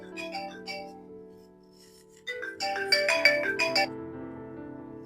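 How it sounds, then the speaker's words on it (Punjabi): A phone ringtone plays a melodic tune, first softer and then swelling louder with bright chiming notes, in a domestic setting with no talk over it. "ਕੀ ਦਾ ਫੋਨ ਆ ਗਿਆ ਹੈ ਵੀਰੇ"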